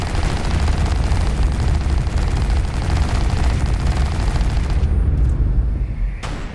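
Turret weapons all firing at once in a space-combat building game with railguns, a loud, dense, continuous barrage that drops off sharply near the end, leaving a few scattered bursts.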